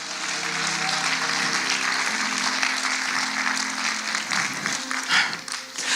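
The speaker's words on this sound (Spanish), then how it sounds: "Come on, denle un fuerte aplauso a Jesús" A church congregation at a miracle service claps loudly and continuously, a thick roar of hands with faint voices and tones mixed underneath.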